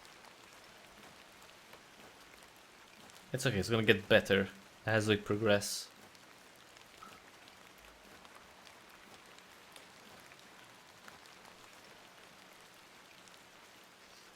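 Continuous rain in the video game Incantamentum, set in England, patters steadily in the background while someone talks briefly partway through, then carries on alone as a soft, even wash.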